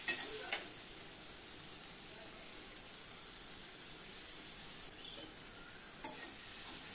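Cumin paste and green chillies sauté in a pan with a constant soft hissing sizzle and occasional faint scrapes of stirring, close by but quiet, with no voices.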